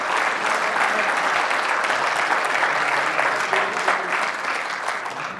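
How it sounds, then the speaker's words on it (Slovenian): An audience at a round-table discussion on road construction, maintenance and financing claps steadily, a dense sustained applause that stays even throughout and fades slightly at the end. "dovolite mi za zaključek, da dobimo aplavz"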